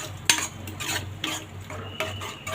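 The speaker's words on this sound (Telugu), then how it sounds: "వేసుకొని బాగా కలుపుకోవాలి." Tempering of fried onions being stirred into tomato dal in a pot, a few sharp spoon scrapes and clinks against metal over a faint sizzle, close and fairly quiet, no talking.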